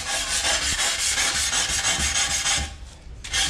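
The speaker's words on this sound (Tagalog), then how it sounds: "Yung tiles pwede nyo gamitan ng liha yan para maganda po yung dulo." Sandpaper rubbed by hand along the edges of floor or wall tiles during roofing and slab work, giving a steady, fairly loud broadband rasp of repeated strokes, briefly easing off near the end before resuming.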